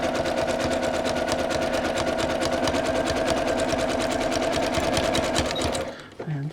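A digital sewing machine stitches a ring sling, running as a loud, close, rapid, even mechanical chatter. The stitching stops abruptly near the end.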